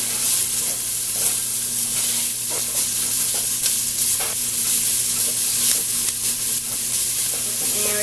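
Chili ingredients sizzle steadily in a hot pan with a little salt while a utensil scrapes and stirs with light, irregular clicks, no voices.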